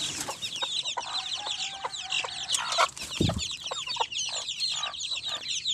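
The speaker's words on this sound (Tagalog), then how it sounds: "ipakita ko lang sa inyo ang aking mga alagang mga manok" Domestic chickens of a large breed cluck busily and continuously at close range, with overlapping calls and a brief low thump partway through.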